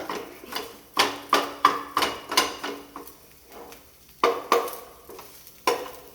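Egg curry ingredients stirred and fried in a pan: a steady run of scraping, clattering stirs in a loose rhythm over a soft sizzle, close and fairly loud, with no talking.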